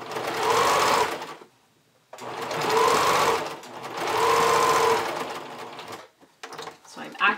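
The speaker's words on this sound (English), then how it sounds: "I'm actually going to baste using my sewing machine, just to keep my layers from slipping." A home sewing machine stitches long basting lines through layered bikini top fabric in three loud, steady whirring bursts separated by short pauses, close up, ending with a few scattered clicks and handling noises.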